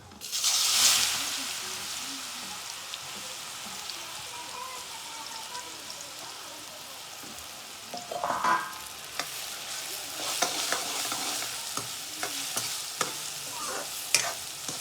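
Garlic, cumin, turmeric and salt sizzle in hot oil for a tempering, opening with a sharp burst of spitting oil that settles into a quieter fry, then scattered crackles and stirring clinks later on.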